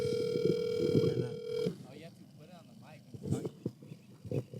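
A phone ringing tone plays on an outgoing call, steady and clear for about a second and a half, then stops while someone talks and mutters over a quiet line.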